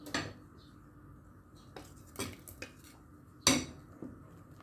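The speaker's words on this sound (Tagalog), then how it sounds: "Ihalo ko na ang aking mga bilo-bilo." A utensil knocks and scrapes against a metal pot as bilo-bilo rice balls are stirred into coconut milk, with a few separate clanks spaced apart over quiet background.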